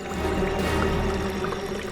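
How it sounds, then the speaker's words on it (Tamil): Steady rushing of flowing water fills the whole moment, a dense, even wash with no pauses and no voices. "தண்ணி சத்தம் கேட்குதே"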